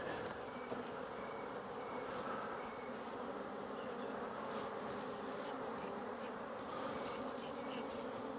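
Honey bees buzz steadily around an open beehive at a new apiary, a dense continuous drone with no break, fairly close and moderately loud, no voices.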